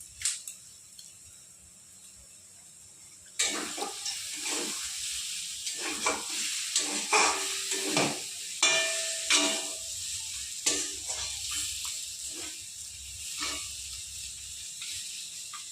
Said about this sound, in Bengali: আমার লাল শাক ভাজা হয়ে গেছে